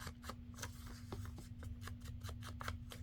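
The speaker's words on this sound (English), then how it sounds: "I'm not always that good at tearing this paper." Paper torn by hand in short ragged strips for scrap crafting, a series of close, crisp rasping rips in quick irregular succession over a faint steady hum.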